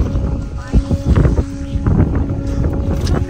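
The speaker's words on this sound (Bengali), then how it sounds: "নিচে হচ্ছে গৌরীকুণ্ডের জল, হাওয়া দিচ্ছে।" Strong wind gusting across the water of Gauri Kund lake in the Adi Kailash mountains, loud rumbling buffets against the microphone that rise and fall throughout.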